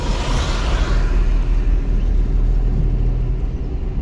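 A car rolls along in third gear during a driving lesson, its steady loud engine and road rumble close and continuous throughout, with no talking.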